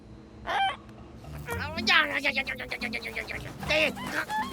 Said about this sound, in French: Mais qu'est-ce qu'une mouette ferait au beau milieu de l'océan, man?